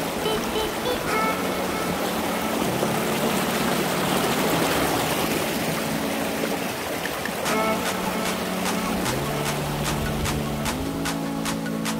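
A monsoon stream at Ghangad Fort near Lonavala, in Maval, rushes in a continuous, even wash of flowing water. Music plays over it throughout.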